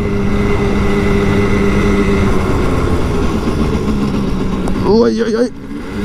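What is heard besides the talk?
Simson Schwalbe KR51/2L moped riding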